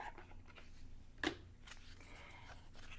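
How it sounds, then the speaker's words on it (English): Oracle cards from a Moonology deck being shuffled, soft papery rustles with one sharper snap near the middle, quiet and close. "as I shuffle these cards"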